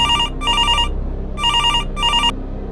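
A telephone rings at a pizza shop late at night. Two double bursts of electronic bell trills are loud and close, with a short gap between the pairs.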